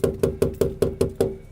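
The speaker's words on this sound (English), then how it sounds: "I'm knocking on the window of an abandoned house with spirits in it, trying to piss it off alone in the snow." Knocking on the window of an abandoned house in snowy wilderness: seven evenly spaced, firm knocks at a steady rhythm, close and fairly loud, with no voices.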